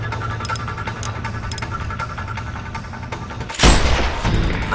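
A sniper rifle fired in the video game Sniper Ghost Warrior 2: one loud, sharp report with a booming tail rings out over a constant rumbling game ambience near the end.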